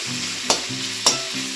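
Thinly sliced vegetables with carrot and chopped ginger fry in a pan over a high gas flame, a loud steady sizzle broken by two sharp stirring scrapes.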